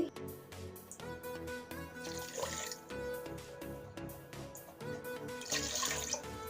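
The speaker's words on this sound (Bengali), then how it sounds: "আমি এখানে 2 কাপ পানি দিয়েছি।" Water poured into a pot for sugar syrup, a steady close trickle running throughout, layered with background music and faint clinks.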